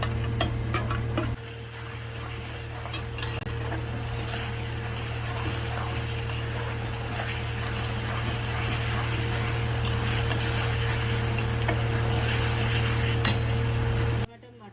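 Onions and ginger-garlic paste fry in a pan in a home kitchen, giving a steady faint sizzle over a low constant hum. A spoon scrapes and clinks now and then as they are stirred, and the sound cuts off abruptly at the end.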